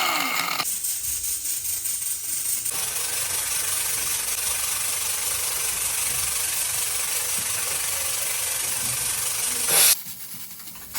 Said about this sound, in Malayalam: ഒരു കുക്കറിന് ചെറിയൊരു പ്രശ്നമാണ് കേട്ടോ വിസിൽ വരാത്ത അപ്പോൾ അതിൻ്റെ വിസിലൊന്ന് ജസ്റ്റ് പൊക്കി കൊടുക്കുകയാണ് ചെയ്യുന്നത്